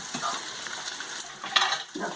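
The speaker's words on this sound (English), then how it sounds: "The frying" Polenta, a fried cornmeal, frying in a pan with a soft steady sizzle and light stirring scrapes, quiet and close, with no talking.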